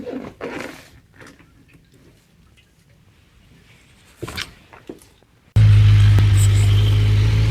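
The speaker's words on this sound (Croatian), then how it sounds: "Za kraj da čujete zvuk, fabrički zvuk motora" Kawasaki Versys 1000 SE 2023 motorcycle with stock exhaust, its engine suddenly starting and holding a loud, steady idle close by after several seconds of quiet handling noises.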